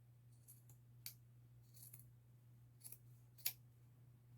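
Scissors snipping through skirt fabric close to the pleats, worked in a lap: a few sparse, quiet crisp cuts spaced apart, over a steady low hum.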